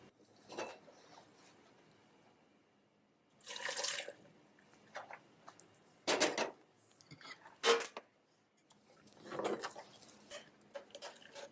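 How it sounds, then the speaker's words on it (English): Liquid such as breast milk, formula or water added to a bowl of soft cooked carrots, heard as a few brief, quiet pouring and dripping bursts separated by near silence, with no voices. "I'm going to put carrots in my bowl and then add some liquid"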